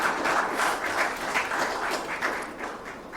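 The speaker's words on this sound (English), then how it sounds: "A big round of applause for Ministry of Defence and Defence Minister." A steady wash of audience applause rolls through the hall at a 2024 defence summit, honouring a defence ministry and its minister. The clapping is continuous and even, with no talk over it.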